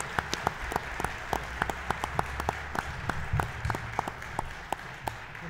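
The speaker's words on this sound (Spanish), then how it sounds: "Les pedimos un fuerte aplauso" Scattered applause from a modest audience at a book presentation, with distinct individual claps standing out over a soft, fairly quiet background of hands.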